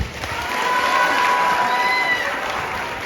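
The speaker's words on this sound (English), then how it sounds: "give a round of applause for the school authority" A school audience applauds the school authority with loud, steady clapping and some cheering, swelling briefly and then easing off, with a high ringing tone running through it.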